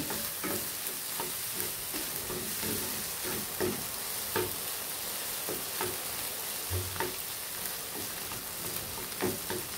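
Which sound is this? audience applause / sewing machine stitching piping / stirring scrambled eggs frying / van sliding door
stirring scrambled eggs frying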